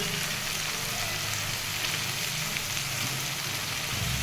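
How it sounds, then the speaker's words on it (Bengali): Spice paste sautés in oil with salt and turmeric for a jackfruit and prawn curry, a steady close hiss of frying that holds evenly throughout. "এবার মশলাটাকে ভালো করে কষাবো, যতক্ষণ না তেল ছেড়ে দিচ্ছে ততক্ষণ কষিয়ে"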